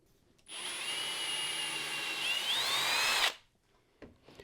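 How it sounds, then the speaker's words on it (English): A power drill bores screw holes for a shop-made planer stand, one steady high whine lasting about three seconds with a slight pitch shift near the end, then stopping abruptly into near silence. "So I'm going to get ready to drill the holes"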